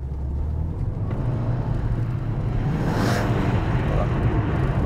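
A car engine drones and rises under hard acceleration on ice, a steady close rumble swelling toward a louder surge midway, with a faint rushing hiss above it.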